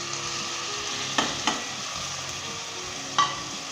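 Mutton is stirred in a pot with ginger, garlic and onion, giving a loud steady frying sizzle broken by three distinct clanks and scrapes of a spoon against the pot.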